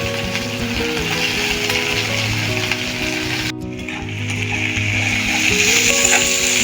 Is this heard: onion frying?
yes